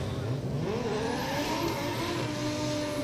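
Drift car at the British Drift Championship at 3 Sisters, an engine revving and wailing as it slides downhill through the outside zone, with rising and falling pitch over a constant roar of crowd and track noise.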